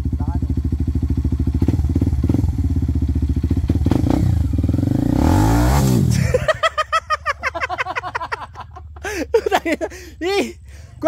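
Motorcycle riding a red dirt mountain trail from Mt. Balagbag toward Montalban, Rizal: a loud, close engine drones steadily for about six seconds, then cuts out, followed by voices talking and laughing.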